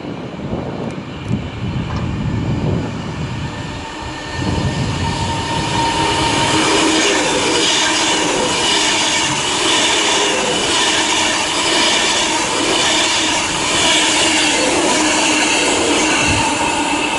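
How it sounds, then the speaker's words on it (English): A class 390 Pendolino electric train, 390-010 Cumbrian Spirit, runs on the West Coast Main Line at Watford Junction on the Liverpool Lime Street to London Euston service. The loud, steady rush of passing carriages swells after a few seconds, with faint wheel squeal. "Here we have a class 390 Freightliner going from Liverpool Lime Street to London Euston."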